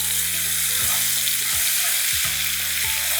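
Chutney with ginger, chilies and garlic sizzles in hot tempering oil in a home kitchen, a steady, loud, close frying hiss with no talk.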